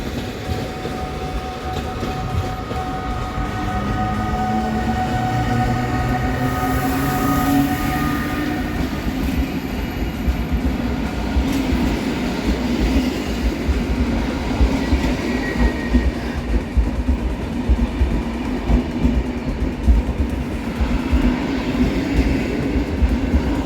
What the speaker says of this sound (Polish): I odjazd Intercity Keweliusz do Gdyni Głównej.